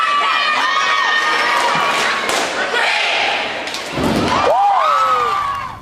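Crowd cheering and shouting at a cheerleading district championship where about ten teams competed, loud and sustained, with excited high voices and scattered thumps from the floor.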